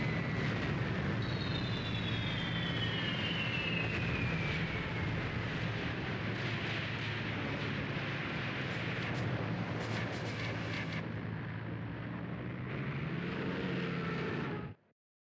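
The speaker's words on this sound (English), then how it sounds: "now the planes are back" Aircraft engines drone overhead in the tank combat game Tank Warfare: Tunisia 1943, a steady loud roar with a descending whine and crackling battle noise, continuous for about fifteen seconds before cutting off.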